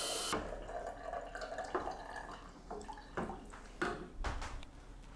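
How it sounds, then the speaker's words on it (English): Water poured into a cooking pot in a home kitchen, a steady splashing stream with uneven gurgles and drips, close and moderately loud. "I'm going to add a few cups of water"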